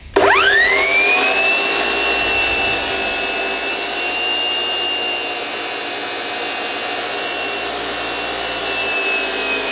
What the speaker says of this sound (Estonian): Nii, nüüd lõpetame jutu ja lähme siis saagimise kallale.